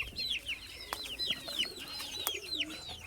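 One-month-old chicks fighting inside a netted coop, with a steady stream of high, rapid chirps and peeps overlapping throughout and a few sharp knocks or scuffles mixed in.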